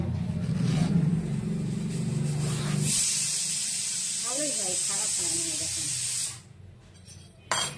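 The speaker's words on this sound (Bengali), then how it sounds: "আর প্রেশার কুকারে ডাল শীষ দেওয়া হচ্ছে।" A pressure cooker of lentils lets off a loud, steady steam hiss through the latter half while someone talks over kitchen background noise. The whistle cuts off abruptly near the end.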